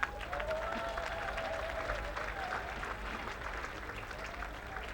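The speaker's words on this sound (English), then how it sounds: "Let's clap for them" A large audience applauds at a University of Lagos matriculation ceremony, a broad, even roar of clapping in a big hall, sustained and steady throughout, heard from a distance and fairly soft.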